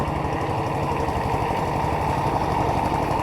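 A water pump engine drawing water from a natural canal runs at a steady, continuous drone with an even throbbing rhythm, close and unbroken for the whole stretch.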